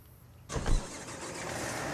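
A tractor engine in the farming game Farm Expert starts with a loud low rumble and then settles into a steady idle drone.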